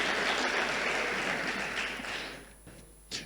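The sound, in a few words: audience applause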